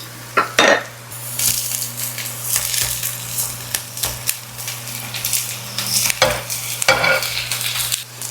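Meatballs go into softened onions in olive oil, dropping with a few sharp clatters and then frying with a steady, loud sizzle, spatula scrapes and pan knocks recurring over a low hum.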